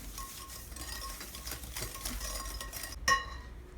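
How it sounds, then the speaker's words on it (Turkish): Eggs and granulated sugar being stirred in a bowl for hazelnut cookies, a continuous quiet scraping and mixing with a single sharp utensil clink near the end. "Üzerine bir su bardağı toz şeker ilave edip şöyle bir karıştırıyorum"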